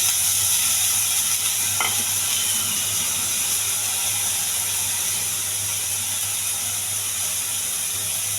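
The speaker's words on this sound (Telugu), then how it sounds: "కొద్దిగా ఆయిల్ అండి. కొద్దిగా జీలకర్ర, కొంచెం కరివేపాకు, కొన్ని ఉల్లిపాయలు" Cumin, curry leaves and onions fry in a little hot oil with a steady, loud, close sizzle and a brief scrape of stirring, with no talking.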